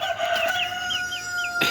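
A chick gives a rapid run of high, close, repeated peeping calls against a faint background hum, with no talking.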